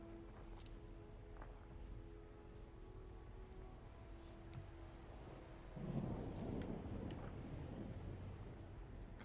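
Steady rain and rolling thunder in the video game Skyrim, a constant wash of rainfall with a deeper rumble swelling midway and continuing to the end, with no talking.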